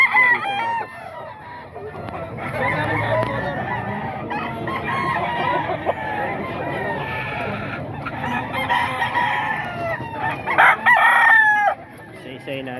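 Roosters crow repeatedly amid a dense din of clucking chickens at a crowded Bocaue tiangge poultry market, with a loud close crow near the end over steady background market noise.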